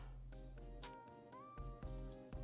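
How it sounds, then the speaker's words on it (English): A small dog whines from an upstairs room, a thin, rising whimper heard faintly and at a distance over steady background noise. "My little doggy's whining. I know you guys can probably hear him upstairs."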